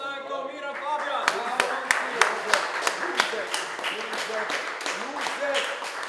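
Audience applause at a fight weigh-in, with a steady wash of clapping and sharp individual claps standing out, fairly close, while voices and music-like tones run underneath.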